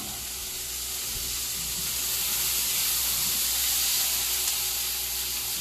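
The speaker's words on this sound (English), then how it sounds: "we're going to be double frying tonight." Chicken double frying in hot oil, a steady, even sizzle and hiss at moderate level with no voices.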